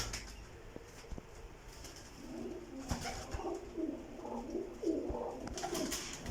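Golden pigeons coo in low, throaty, repeated phrases close by, with a few clicks and the soft flutter of wings around them.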